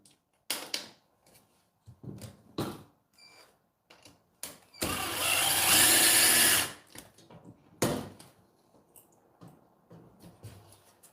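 A power drill drives a screw while a curved segment layout is assembled, giving one loud whirring burst of about two seconds between scattered light taps and clicks, with a sharp knock right after.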